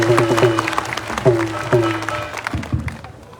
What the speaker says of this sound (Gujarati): અનંત સાહેબ માટે જોરદાર તાળી પાડો